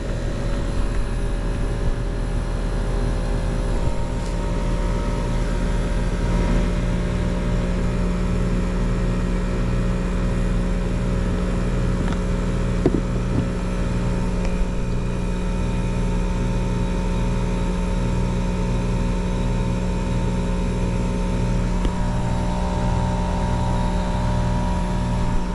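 A Gree Flexx 3-ton 20 SEER inverter air conditioner runs steadily, a low continuous mechanical hum with a faint tonal whine that rises slightly as it ramps up, constant and fairly close throughout, with no talking.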